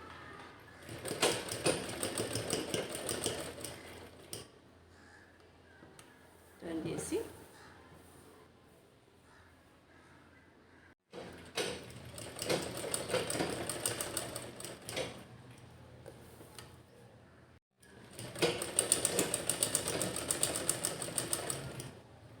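Sewing machine stitching a dress top, running in three long bursts of rapid, steady needle clatter with short quiet pauses between them, close and fairly loud.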